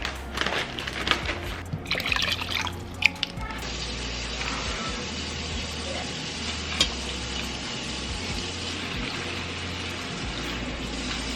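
Water sloshes and splashes steadily as leafy greens soak and are swished around in a bowl filled with apple cider vinegar water, with handling noises at the start.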